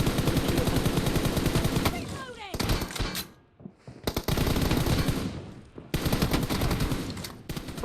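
Rapid automatic gunfire in the mobile battle-royale game PUBG Mobile, loud, dense bursts with brief pauses between volleys, a faint voice talking underneath.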